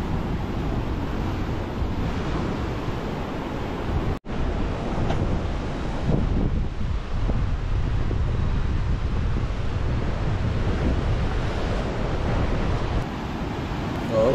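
Strong wind and high surf roar along a rocky coastal walkway the day after a typhoon passed, a dense, continuous rush of wind buffeting the microphone over crashing waves.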